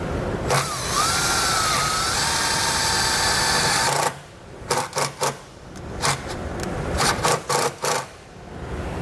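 Self-tapping screw driven by a power drill into doubled-up vehicle frame metal, a loud continuous whine lasting about four seconds, then several short stop-start bursts of the drill as the screw is seated.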